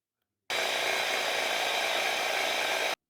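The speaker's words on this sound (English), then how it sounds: "We're going to drill into the ceiling." A power drill bores into a ceiling while acoustic ceiling rafts are being fitted. One steady, loud, whining burst starts abruptly after a moment of silence, runs for about two and a half seconds and then cuts off.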